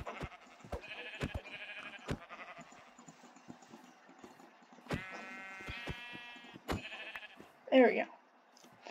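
A black sheep in Minecraft gives a couple of wavering bleats amid sharp clicking and game noise, followed by a short burst of voice near the end.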